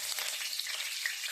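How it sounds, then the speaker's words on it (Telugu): Curry leaves frying in hot oil give a steady, close, dense sizzle with crackling spits throughout, and no voices. "ఆయిల్ కాగిందండి, కరివేపాకు వేస్తున్నా,"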